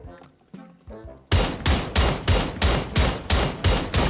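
PUBG battle royale gunfire from an M16 rifle shot from atop a house: quiet rumbling start, then a loud steady string of about nine evenly spaced sharp shots, close and punchy, with no talk over them.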